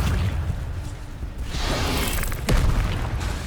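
A fire spell cast in the video game Hogwarts Legacy: a rushing whoosh swells into a sharp fiery boom, then a roaring burst of flame trails off.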